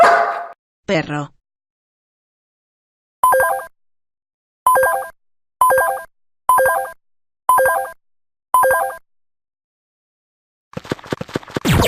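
Six short, bright, evenly spaced yips from a dog, each clipped and alike with silence between them, framed by a brief voice at the start and noisy sound at the end.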